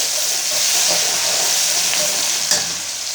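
Minced garlic frying in oil or ghee in a pot gives a loud, close, continuous sizzle with faint stirring clicks, heard without any talk.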